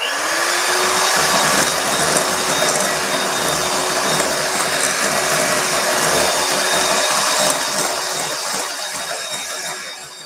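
An electric mixer whirs loud and steady as it beats biscuit batter with milk and vanilla, a continuous close motor drone that eases off slightly at the end.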